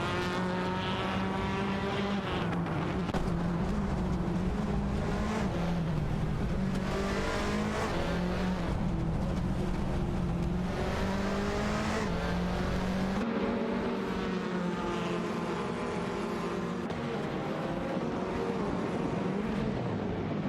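Honda Civic FA and Alfa Romeo Giulietta TCR touring cars race in a video game, their engines droning and revving continuously with shifting pitch as they run neck and neck, loud and without pause.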